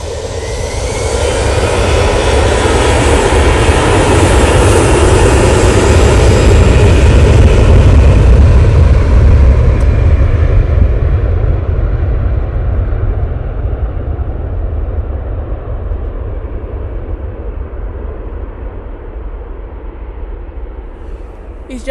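An easyJet jet takes off at Manchester Airport with a loud, deep, sustained engine roar that builds to a peak, then slowly fades as the aircraft climbs away, while people talk faintly over it.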